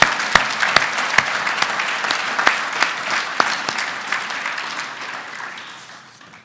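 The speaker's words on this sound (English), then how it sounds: "So let's give a round of applause for these." A hall of fame induction ceremony audience breaks into steady applause, dense clapping with a few sharp, close individual claps standing out, gradually tapering off toward the end.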